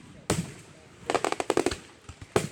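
Fireworks bursting at a local Fourth of July show: a sharp bang early, then a rapid crackling cluster of pops, followed by a few more scattered bursts, heard at moderate distance with faint voices in the background.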